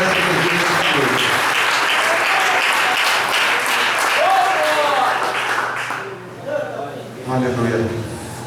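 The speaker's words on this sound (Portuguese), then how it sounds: "Palmas e agradecem a Jesus nessa noite." Church congregation applauding loudly and steadily at an evening service, sustained clapping filling the room, with someone speaking over it near the end.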